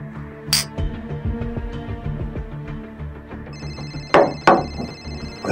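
A telephone rings in the second half with a steady electronic ringtone, under a scene that has faint clatter and knocking sounds and a few sharp clicks nearby.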